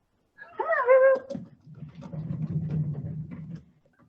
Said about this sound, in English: this is the first time we've had a cat on a wheel on Meowy Hour, right, Kathy?